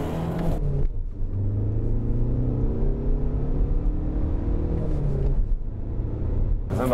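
A VW Golf Sportsvan accelerates hard from 0 to 100 km/h with ESP switched off, its engine rumbling and climbing in pitch through the gears with brief dips at shifts, heard loud and steady from inside the car.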